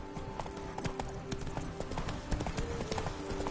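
Horse hooves clip-clop in a steady trotting rhythm in The Witcher 3, the clear sharp strikes close and continuous, with background game sounds and a voice speaking over the hoofbeats.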